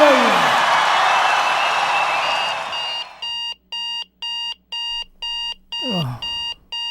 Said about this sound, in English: stupid alarm